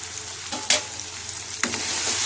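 Okra and tomato cook in a pan with salt, giving a steady, soft sizzle with a few sharp spatula scrapes and clicks close by; no one talks.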